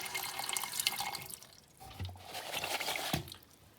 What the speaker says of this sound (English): So we're gonna go ahead and add some water to this now.